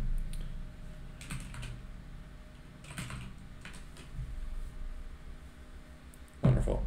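Keyboard typing at a computer while an authorization code is entered: soft, steady clicks of keys pressed in short bursts, moderately close, with no one speaking, ending in a louder thump.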